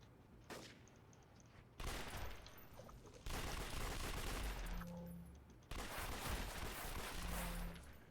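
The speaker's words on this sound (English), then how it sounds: "I know I heard somebody shoot at me." Gunshots fired at the player in a video game, coming as abrupt loud bursts of rapid fire that start and stop in blocks, with short quieter gaps between volleys and no talking.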